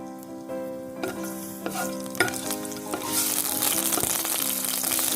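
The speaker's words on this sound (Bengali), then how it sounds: "এবার গরম তেলে গরম মশলা দিয়ে কিছুক্ষণ নেড়ে নিচ্ছি।" Whole garam masala spices hit hot oil in a kadai for a quail egg biriyani, crackling and sizzling loudly with spoon stirs; the frying grows more intense toward the end, over a faint steady hum.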